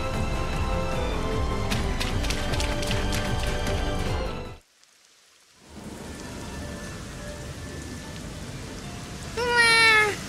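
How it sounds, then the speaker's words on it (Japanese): Steady heavy rain from the Twisted Wonderland game pours loud and continuous, cuts out briefly to near silence, then returns with a short rising tonal effect at the end. "うわぁ、どんどん雨が強くなってきたんだぞ。"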